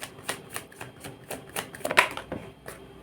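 Tarot cards drawn from a deck during a reading: quick, close papery flicks and taps in an uneven rhythm, with no voices.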